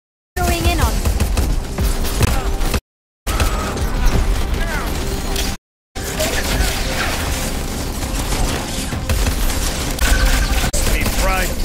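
A defense turret in Crackdown 3 fires in dense, continuous bursts mixed with booms and mechanical clatter, loud and close, broken by two short silent gaps.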